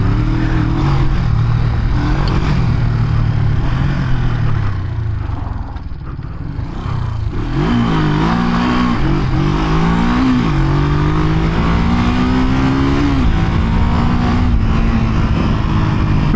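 A 1973 Honda CL350 motorcycle engine revs hard through its gears, loud and close, with a brief lift off the throttle before it climbs in pitch again in rising sweeps.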